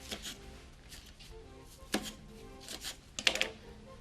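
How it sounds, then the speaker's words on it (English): A knife trims scallions on a cutting board in a domestic kitchen, giving a few sharp, separated taps and cuts, quiet and close, with soft handling noise between them. "I'm trimming a scallion."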